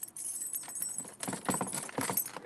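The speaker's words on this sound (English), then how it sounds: "We've got the keys." Keys jangle and clink in a series of close metallic rattles, busiest in the second half, while someone handles them at a front door.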